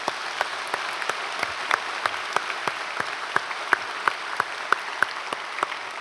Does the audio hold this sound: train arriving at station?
no